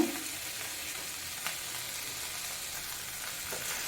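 Mint leaves, coriander leaves and chopped green chilies sauté in hot oil with a soft, steady sizzle and occasional light stirring clicks, fairly quiet and with no voices.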